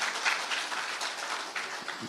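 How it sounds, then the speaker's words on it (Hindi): A live audience at a Bihar election interview event claps loudly and steadily to welcome politician Tejashwi Yadav, a brief burst of close, sustained applause. "जोरदार तालियों से तेजस्वी जी का स्वागत करिए,"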